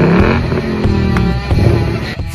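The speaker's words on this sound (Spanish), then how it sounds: "Suena como un coche muy grande" A very large car's engine growls and revs loudly up close, rising and dipping over a couple of seconds.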